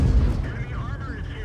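A tank cannon fires in the World of Tanks video game, a single deep boom at the start that rolls off into a rumbling tail while someone talks over the game sound.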